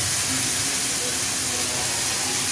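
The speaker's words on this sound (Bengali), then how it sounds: "ভালো করে মশলাটাকে আগে কষিয়ে নেবো।" Ginger, cumin, green chili and tomato frying in a pan, making a loud, steady sizzling hiss that runs unbroken throughout.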